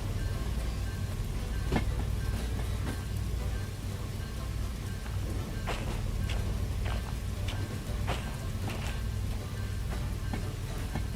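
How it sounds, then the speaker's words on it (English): Boxcars freewheeling along rails in the train game Derail Valley, heard as a steady low rumble with scattered clicks and knocks from wheels passing rail joints, continuous and fairly close. "So now we're freewheeling our boxcars."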